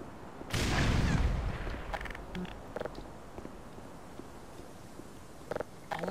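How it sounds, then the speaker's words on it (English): A grenade explodes in the video game Black Mesa: one loud, booming blast that rumbles for about a second, then fades into quiet game ambience broken by a few small clicks and thuds. "Grenade."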